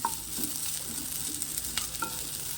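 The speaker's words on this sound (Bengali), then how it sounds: "উচ্ছে ভাজাটা হচ্ছে ফ্রাই প্যানে বসিয়ে দিয়েছি" Sliced bitter gourd frying in oil in a frying pan in a home kitchen, a soft continuous sizzle with light stirring scrapes and small pops, close and fairly quiet.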